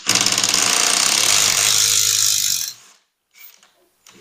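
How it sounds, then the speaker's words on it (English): A loud, close power drill runs with a rapid rattling whir for over two seconds, then stops, leaving brief faint clicks. "let's do it with a drill instead"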